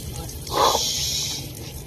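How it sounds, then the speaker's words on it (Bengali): Tap water gushes and splashes briefly while small fish are washed under it, a short close burst over a low steady background hum. "আমি মাছগুলোকে ধুয়ে নেবো।"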